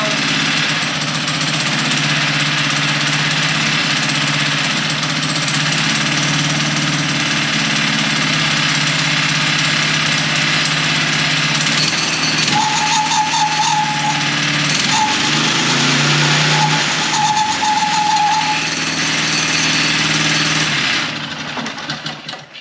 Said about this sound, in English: we're gonna back it off, see if we can make it idle like normal